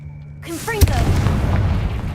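A Confringo spell in the Hogwarts Legacy video game fires with a rising whoosh, then a sharp boom that trails into a rumbling, crackling blast, fairly loud and close.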